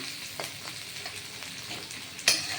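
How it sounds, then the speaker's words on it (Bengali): Onions frying in a pan, a close, steady crackling sizzle with light stirring scrapes and one sharper clack near the end, no voices. "দেখুন এই পেঁয়াজটা লাল করে ভাজা হবে"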